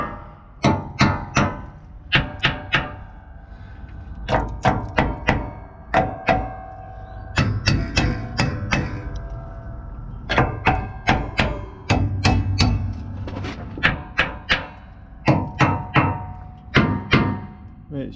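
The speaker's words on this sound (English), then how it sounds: "using our improvised chapping hammer, we'll just go round." Hammer blows on a trailer's wheel nuts, struck with an improvised chapping hammer while going round the wheel: sharp metallic taps in quick clusters of two to four, repeating steadily at close range with no talk.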